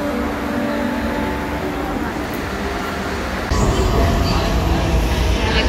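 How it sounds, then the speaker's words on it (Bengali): A metro train pulls into Dum Dum metro station in Kolkata: a continuous rumbling roar of the approaching carriages that grows louder and heavier partway through, with faint station ambience. "দেখুন আমাদের মেট্রো চলে এসেছে"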